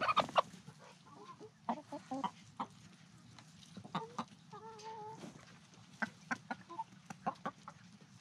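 Panting chickens in a heat wave cluck and chatter in short bursts, with a few longer calls rising over a steady low background hum, fairly close by.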